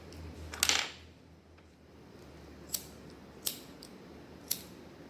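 Scissors trimming batik paper for a sospeso craft, one louder crisp snip followed by several quieter, evenly spaced cuts against a quiet room.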